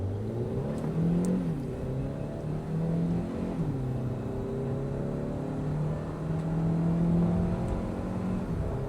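Kia Carens Clavis with a 1.5 turbo petrol engine pulling hard at full throttle in sport mode, the engine note rising steadily through the revs with a brief dip at a gear change, heard from inside the cabin.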